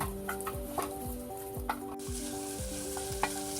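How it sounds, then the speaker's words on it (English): Ground beef sizzles steadily as it fries in a pan, a continuous crackle with occasional louder pops and faint stirring, close and alone with no talking. "my ground beef has been cooking now for 10 minutes"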